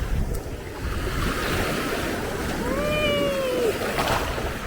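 Ocean waves wash and break on Samae Beach in Thailand, a continuous broad roar with wind buffeting the microphone; a faint cat-like meow rises briefly in the middle, no talk.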